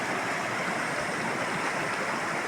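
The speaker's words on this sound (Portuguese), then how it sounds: "Saímos lá da ilhazinha pra vir nessa cachoeira longe." A distant waterfall pours in a steady, even roar of falling water that fills the whole stretch without a break, with no voices over it.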